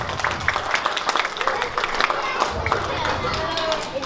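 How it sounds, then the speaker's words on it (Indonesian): Scattered clapping from a congregation at an Islamic religious gathering, mixed with crowd murmur and voices, uneven and moderately loud. "Tepuk tangan buat kita semua."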